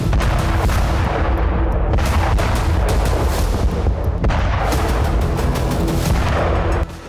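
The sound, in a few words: missile explosions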